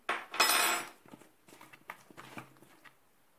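Chicken and potato pieces are stirred with a utensil, giving a loud scraping, clattering burst at the start and then softer, scattered clinks and scrapes against the dish.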